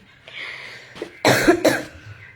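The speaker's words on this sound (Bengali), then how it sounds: "আমার কাশিটা কমতেছে না কেন?" A woman coughs indoors, a short throat rasp followed by two loud, harsh coughs in quick succession, close to the microphone with no talk.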